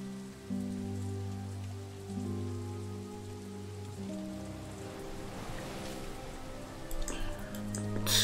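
Steady rain patters in the video game Satinav's Chains (The Dark Eye) over a low droning musical tone, with occasional faint ticks and no voices.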